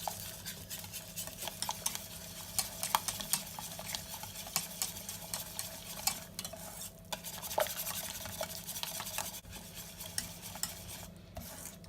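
Mature cheddar being stirred into a macaroni cheese sauce in a pan, with continuous soft scraping and clinking of a utensil over a faint bubbling sizzle, fairly quiet and without talking.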